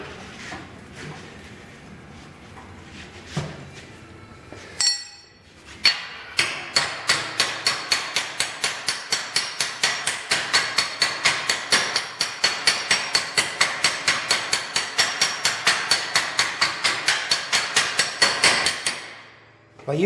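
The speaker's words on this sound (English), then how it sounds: "By using the slapper and the hammer, I'm taking the memory out of the steel" Rapid, steady hammering with a hammer and slapper on the steel hood edge of a 1928 Dodge rat rod, dozens of sharp ringing strikes in a fast even rhythm, close and loud, after a few scattered knocks.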